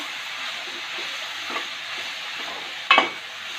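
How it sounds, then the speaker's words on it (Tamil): A steady sizzle of bottle gourd sautéing in a pan, with a soft scrape of stirring and a sharper clatter near the end. "சுரக்காயை போட்டு வதக்கி வச்சுக்கணும்"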